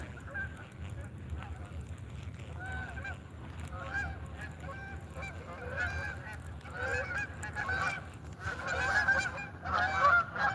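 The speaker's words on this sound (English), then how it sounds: "Damn waterfowl. My worst enemy right there. Geese. The worst. Damn geese." A flock of geese honks near a fishing spot by an animal shelter, overlapping calls rising and falling in irregular bursts that grow louder toward the end over a steady outdoor background.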